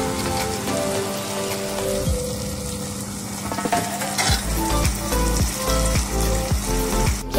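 Chana dal and softened tomatoes with spices fry in a pan, a loud sizzling crackle with stirring scrapes and rhythmic clacks of a spoon partway through.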